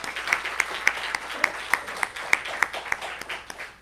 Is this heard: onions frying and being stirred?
no